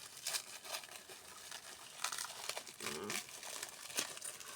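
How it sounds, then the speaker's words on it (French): A doll is unwrapped from its plastic packaging, with close, faint crinkling and tearing of the plastic heard in uneven rustling bursts and no voices. "elle est dans du plastique. Bon, vous ne savez pas, on va la déballer."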